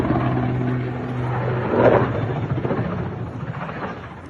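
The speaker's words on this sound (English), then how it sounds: "That's a propeller plane." A propeller plane drones as a broad, steady rumble that swells briefly near the middle and then settles, moderately loud with a wind-like wash and no talking.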